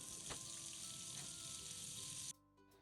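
Loud, steady sizzling of margarine melting in a hot frying pan that cuts off abruptly near the end, leaving only faint hum.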